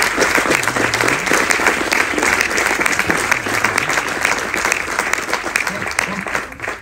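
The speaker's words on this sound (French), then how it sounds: "je vous invite à les applaudir très chaleureusement" Warm, sustained applause fills a French business event hall for the whole stretch, dense and loud with steady clapping and some voices blended into the crowd noise.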